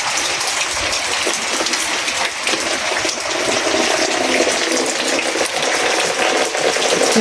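A continuous, loud rush of falling and running water as rainwater leaks through roof sheets, like heavy rain pouring and spattering close by, with no voices.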